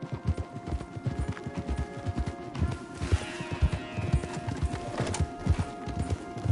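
Several horses in the video game Red Dead clop along a trail in a brisk, dense rhythm of hoof beats, close and loud over faint music, with no voices.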